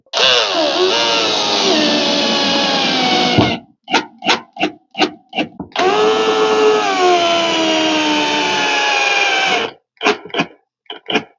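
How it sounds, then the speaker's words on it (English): A power driver runs two long continuous bursts, winding down in pitch as it drives wood screws through pre-drilled holes into a wooden gate post, each followed by a string of short trigger blips, up close and loud with no talking. "to fix the post, I've got some 580 wood screws. I'm just going to simply go in like so, my pre-drilled holes."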